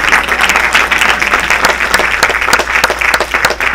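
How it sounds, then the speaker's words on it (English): Audience clapping after a film discussion, a dense, sustained round of many hands with a few sharp individual claps standing out, fairly close and loud. "Should we clap first? Y'all want to clap first?"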